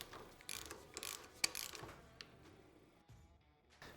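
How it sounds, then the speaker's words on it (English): Torque wrench tightening the center bolt of a Showa SFF-Air TAC dirt bike fork, a few quick close ratcheting clicks in short bursts followed by quiet. "thread it into place, and then torque it to 51 foot-pounds"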